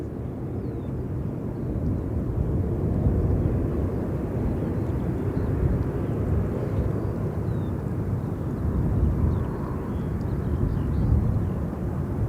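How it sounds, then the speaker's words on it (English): A Boeing 777 airliner taxis out at London Gatwick Airport, its engines a steady, broad low rumble that holds evenly with no voices. "There's another 777 taxiing out"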